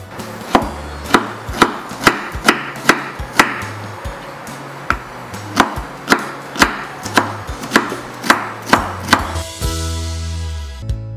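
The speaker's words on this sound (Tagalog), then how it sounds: "Ngayon, isusunod naman natin ang ating ginger. Kailangan din natin itong hiwain ng maliliit." Ginger chopped into small pieces on a board for Maranao palapa, about twenty sharp knife strikes in a steady, slightly uneven rhythm, close and clear with no talking, ending in a brief scraping rustle.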